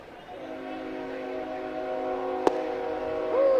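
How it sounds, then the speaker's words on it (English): A passing train sounds a long, sustained chord from its horn, loud and steady. A sharp crack cuts through it partway, and then the horn pitch bends near the end, with a ballpark crowd faint in the background. "He heard the train. That's the old 347 right on time."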